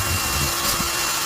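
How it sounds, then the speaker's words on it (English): Power drill fitted with a buffing attachment cleaning a fuel injector, a steady high-pitched whirring grind close to the mic with a brief scrape partway through. "So now we've got a drill with a buff piece on it,"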